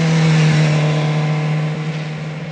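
A BMW S1000RR 1000cc racetrack-ready sport bike engine held at a loud steady high rev, a close droning buzz with a strong tone that eases slightly toward the end, no voices.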